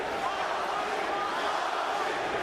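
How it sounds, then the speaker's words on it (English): Fans at a Cung Le versus Scott Smith martial arts fight cheer for Cung Le, a steady, dense roar of crowd voices with no pauses that fills the arena continuously. "As the fans show who they are rooting for, cheering Cung Lee's name"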